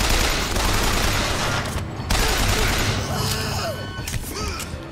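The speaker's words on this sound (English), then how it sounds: "Shotgun!" Shotgun fire in Bioshock Infinite, with loud, rapid blasts and crashing impacts that come in a dense burst amid combat clatter and scattered metallic ringing.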